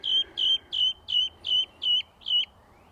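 Young birds outdoors give seven evenly spaced high, thin chirps in a steady rhythm, each about a quarter second long, over a quiet low background hum.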